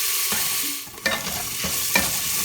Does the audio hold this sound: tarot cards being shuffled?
no